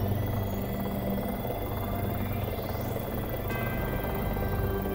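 A small remote-controlled toy helicopter flies indoors, giving a steady, continuous whirring buzz that holds at an even level throughout.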